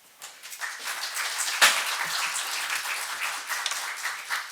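Warm audience applause welcoming a speaker to the stage in a hall, a steady wash of many hands clapping that starts abruptly and holds at an even level, with one sharp louder clap near the start.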